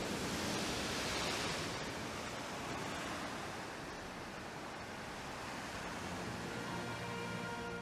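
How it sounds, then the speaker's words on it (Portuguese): Waves surging and echoing inside Fingal's Cave, a sea cave in Scotland: a dense, continuous roaring wash of water and air that swells early and then settles into a steady booming rumble. "São os barulhos sombrios produzidos pelos ecos das ondas"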